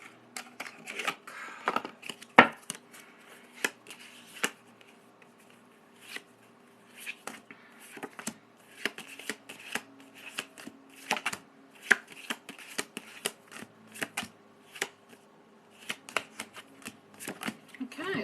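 Love tarot cards being shuffled make a close, irregular riffling and tapping that runs throughout, with a voice speaking in places.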